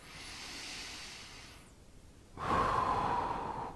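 A person with back trouble on the right side of the spine breathes deeply while easing into a gentle lower back stretch: a long, soft exhale, a brief pause, then a stronger, close breath, with no talking.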